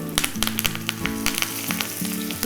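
Curry leaves sizzle and crackle loudly in hot oil, with sharp pops bursting over a constant frying hiss, close up.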